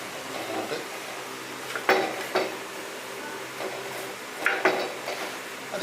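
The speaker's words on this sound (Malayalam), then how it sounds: "ഇനി ഇത് നന്നായിട്ടൊന്ന് മിക്സ് ചെയ്ത് മതി." Chili powder coating for fish fry being mixed in a bowl, with soft scraping and a few sharp clinks of a spoon against the bowl, fairly quiet and close.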